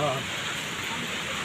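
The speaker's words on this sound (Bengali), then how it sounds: "এ বৃষ্টি পাহাড়েতে পানি পড়তেছে," Steady rain and water pouring down a hillside at a waterfall near Rawang, Selangor, Malaysia, a dense continuous broadband wash that stays even and close throughout, with no voices over it.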